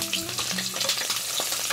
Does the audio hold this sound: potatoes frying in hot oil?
yes